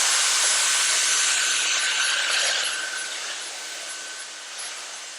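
A high-end vacuum cleaner sucking up spilled cocktail glass-rimming mess in a kitchen roars loud and close, a steady broadband whoosh that eases slightly partway through.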